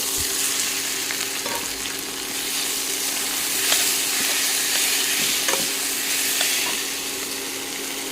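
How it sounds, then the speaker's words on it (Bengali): Chopped ginger and spiced cabbage fry in hot oil, a loud, steady close sizzle with soft stirring scrapes and occasional crackles throughout, no talking. "আদা কুচিটা একটু ভালো করে ভেজে নিই এখন দিয়ে দিচ্ছি মশলা মাখা বাঁধাকপি"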